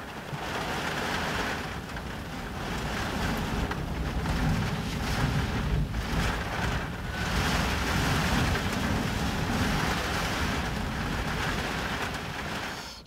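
A heavy coastal storm at Mizen Head in Ireland, with winds of 70 to 80 mph, lashes a van: steady loud rain drums on the body while strong wind roars in gusts across the full length, with no voices.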